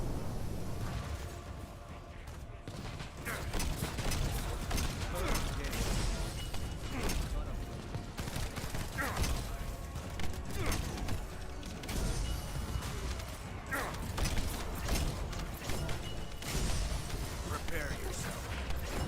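A bombing attack in The First Descendant game, with repeated crashing blasts, mechanical clanks and creaks rolling through a dense battle mix, while a game voice speaks over it at moments.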